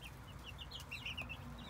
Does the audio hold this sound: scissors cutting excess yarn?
no